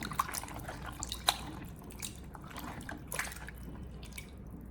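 Water drips and splashes softly in a bowl as tomatoes are rubbed clean by hand, a close, continuous patter of small wet sounds with no talking.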